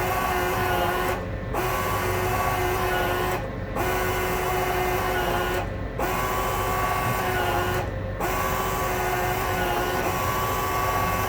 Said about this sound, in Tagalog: The result will be printing out.